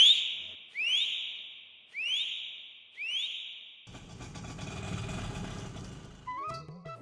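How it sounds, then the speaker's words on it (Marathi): Four loud, sharp rising whistles at a steady pace, each about a second apart, sounded by a person to hail an auto-rickshaw. A burst of mixed street and engine noise follows, with a brief voice at the end. "तू मार ना शिट्टी, जोरात मार"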